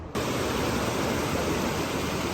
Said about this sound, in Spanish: Y llegan los rápidos.